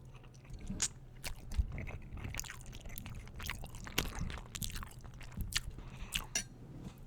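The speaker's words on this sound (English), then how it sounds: "it feels weird having to smack my lips because I was raised to chew with my mouth closed" Cereal being chewed with open-mouthed lip smacking, close and wet, with a steady run of crunching, clicking and squishy mouth sounds and no talking.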